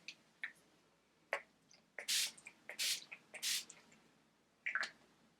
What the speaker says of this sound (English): Oh, and I also have to do my setting spray.